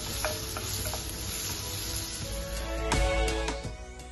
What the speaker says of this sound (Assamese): ইয়াত মই পিঁয়াজখিনি দি পিঁয়াজখিনি অকণমান ৰঙচুৱা হোৱালৈকে মই ভাজি ল'ম